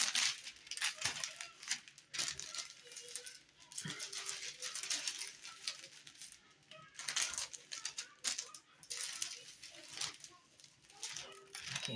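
A thin plastic strip cut for a candy bouquet is folded in half, giving crinkly crackles and small ticking rustles in irregular bursts, close to the mic, with occasional quiet speech nearby.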